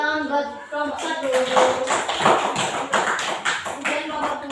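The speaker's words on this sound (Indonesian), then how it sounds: "Oke, tepuk tangan buat kelompok 1." Children clap for group 1 in a classroom, a quick patter of many small hands. An adult voice is heard over the clapping.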